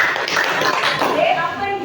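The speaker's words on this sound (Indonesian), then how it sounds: "tepuk tangan semuanya" A classroom of students claps together in a quick, lively burst of handclaps, close and fairly loud, with a voice faintly underneath.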